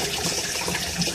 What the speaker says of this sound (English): And then it starts to drain the tank.